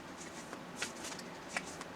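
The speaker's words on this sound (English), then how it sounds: "You can probably hear me shuffling it." Tarot cards being shuffled by hand, with soft riffling and a couple of light slaps, faint over the steady hum of a nearby fan.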